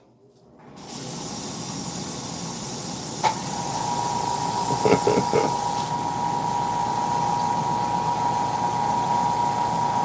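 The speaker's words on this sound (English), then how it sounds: "One more squirt. I'm using Tamiya airbrush cleaner because this stuff seems to work pretty well." Airbrush blowing Tamiya airbrush cleaner, a steady close hiss starting abruptly and running continuously to the end, with a faint tonal whine and a few brief clicks partway through.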